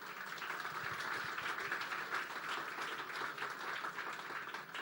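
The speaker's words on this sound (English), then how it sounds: "Please give her a huge round of applause." An audience applauds at the opening ceremony of the sixth-generation Peak Tram in Hong Kong, a steady wash of many hands clapping, faint and distant, sustained for about five seconds without a break.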